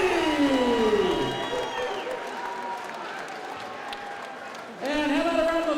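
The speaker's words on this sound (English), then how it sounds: "how about a round of applause for a very tough opponent, Tony the Rhino Giles" Crowd at a UCMMA mixed martial arts event applauding a fighter after the bout, a sustained wash of clapping and cheering in a large hall, with an announcer's voice heard over it.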